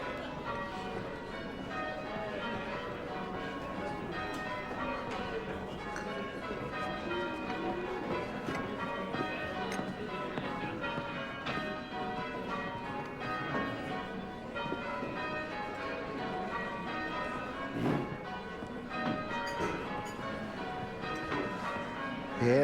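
Church bells are rung by a team of bell ringers in an English village, a continuous pattern of overlapping clangs heard at moderate distance.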